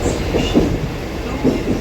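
A train runs along the rails near Dombivli station with steady rumbling and faint clickety-clack rhythm, close and continuous throughout.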